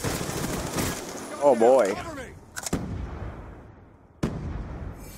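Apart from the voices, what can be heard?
KSG shotgun firing in Black Ops II video game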